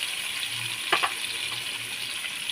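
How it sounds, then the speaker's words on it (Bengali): Whole spices such as black cumin frying in a wok for a spicy amla (Indian gooseberry) pickle, giving a steady hiss with a short scrape of stirring near the middle. "দিয়ে একটু ভালো করে কড়াইতে নেড়ে নেবো।"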